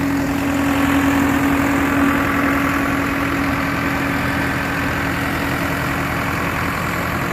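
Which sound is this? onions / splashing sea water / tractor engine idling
tractor engine idling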